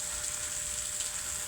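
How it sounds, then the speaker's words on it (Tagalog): Water spatters in a hot frying pan, a close, steady crackling sizzle that holds evenly throughout with no one talking. "Lakas ng talsik ng tubig."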